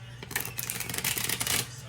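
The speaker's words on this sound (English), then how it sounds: "All right, last shuffle." Tarot cards are shuffled in a quick riffling flurry lasting under two seconds, close and crackly, with a faint hum beneath and no clear speech.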